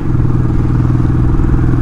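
A Royal Enfield Classic 500 single-cylinder motorcycle labours up a steep mountain road in low gear, its engine a loud, close, rapid thumping beat that holds steady throughout.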